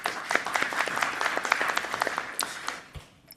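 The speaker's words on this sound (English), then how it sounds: "So we can give them first a round of applause." Audience applause at a panel discussion on open energy planning models, a dense burst of many hands clapping close by that holds steady, then thins and fades toward the end.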